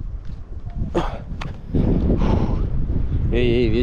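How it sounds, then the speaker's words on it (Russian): Heavy wind buffeting a microphone outdoors on a rocky ledge at Cape Gelidonya, Turkey, rumbling in uneven gusts, with a few brief sharp noises and a warbling whistle near the end. "Эй, ветер, тише."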